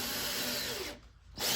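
Power drill drives screws into a window frame, a steady close whir that stops briefly and then starts again.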